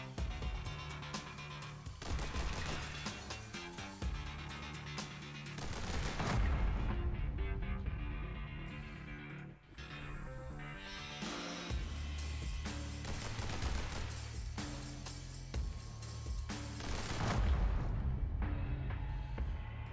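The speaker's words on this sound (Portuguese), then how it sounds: "eu disparo para a porta e mesmo assim não o mato." Rapid gunfire in the video game The Hong Kong Massacre as shots are fired at a door: dense, continuous bursts of loud shots and impacts with heavy booms over game music, no clear talk.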